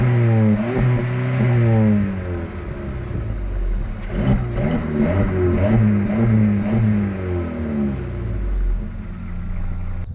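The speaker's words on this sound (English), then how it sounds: "let's head in to hear the exhaust." Exhaust of a 2013 Skoda Yeti revving repeatedly, rising and falling engine tones loud and close throughout, with no talking.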